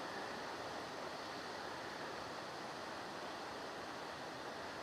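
Flowing water from a stream in the woods makes a constant broadband rush, faint and even throughout, with no voices.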